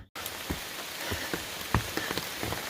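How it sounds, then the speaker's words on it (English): Steady rain drums on an umbrella along a forested stretch of the Long Trail near Devil's Gulch, a dense close patter broken by heavier individual drops, with no one speaking. "been raining"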